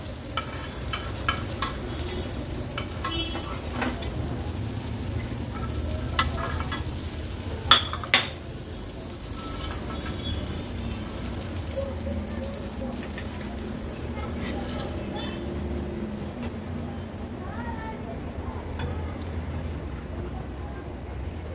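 Pieces of karli fish coated in semolina frying in a pan give a steady close sizzle, with occasional metal clinks of a utensil and someone talking over it.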